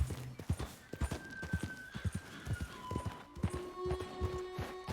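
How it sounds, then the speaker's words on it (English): Horse hooves clip-clop at a steady walking rhythm in Red Dead Redemption 2, close and distinct, while tonal game music or ambient tones hum quietly underneath. "Hold on, I cannot ride this horse"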